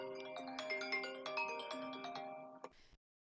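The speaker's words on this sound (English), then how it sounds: "Sorry, I'm getting a phone call." A phone ringtone for an incoming call plays a bright, stepping electronic melody of layered tones for nearly three seconds, steady and fairly close, ending with a short click before silence.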